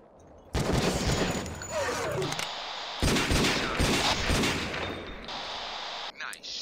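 Rapid gunfire bursts from the video game Jurassic Park Revolution, loud dense volleys in two long stretches with a brief gap, ending in a few sharp shots, with voices over the top.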